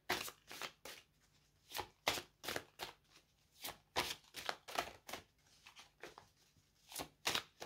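A deck of oracle cards is shuffled up close, with quiet, rhythmic bursts of papery riffling and flicking separated by short pauses.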